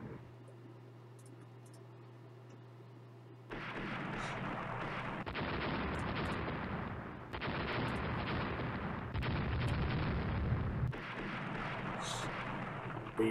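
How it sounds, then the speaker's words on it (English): Heavy 14-inch battleship guns firing during a bombardment in the naval strategy game Rule the Waves, a sustained loud roar of overlapping blasts that rolls on for several seconds after a quiet start. "BB's hit with 14-inch guns."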